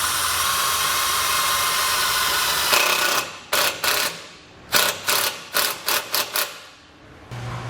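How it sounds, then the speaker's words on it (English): Close, loud whirring of a power driver sinking a self-tapping screw into steel on a 2019 Jeep, a long continuous grind followed by a series of short bursts with brief pauses, no talking. "we can grab our self-tapping screw, feed it through the ring terminal, and secure it to the steel."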